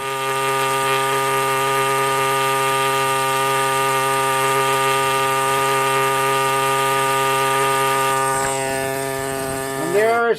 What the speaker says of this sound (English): that'll look a whole lot better when I hit the barrel sander to it